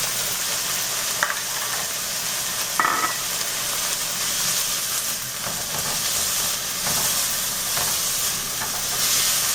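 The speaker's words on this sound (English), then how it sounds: "So as I'm sauteing this one, I just want to make this lightly brown." Onion, crushed ginger and garlic sauté in a pan for broccoli curry, a loud continuous sizzle and hiss with brief stirring scrapes throughout.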